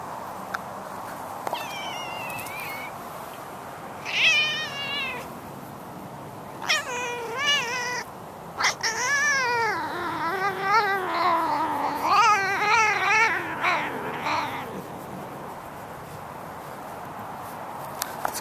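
A cat meows repeatedly outdoors on a windy day, several drawn-out, wavering calls near the microphone over steady wind noise, with a few soft rustles between them.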